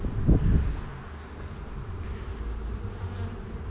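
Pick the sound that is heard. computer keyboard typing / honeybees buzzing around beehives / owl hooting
honeybees buzzing around beehives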